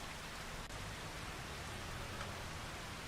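Rain falls steadily in the farming video game Farming Simulator 25, a constant soft hiss of drops with no other sounds and no voices.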